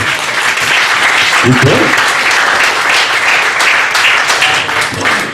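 An audience at a comedy roast in a Richmond, Virginia club applauds loudly and steadily, while someone briefly speaks over the clapping.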